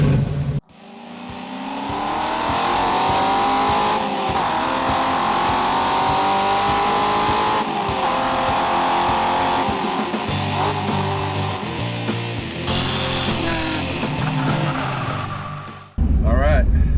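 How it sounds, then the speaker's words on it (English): A 1969 Camaro drives up a parking lot and back in first gear, its engine droning loud and steady close by, with shifts in tone near the end. "just did a quick little first gear putt up the parking lot and back just to check out Efrain's clutch"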